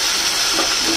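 Water poured from a rinsed bowl into a pan of pointed gourd (potol) curry, a steady close splashing stream lasting the whole moment.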